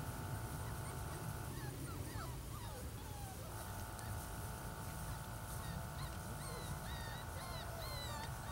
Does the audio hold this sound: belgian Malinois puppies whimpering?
yes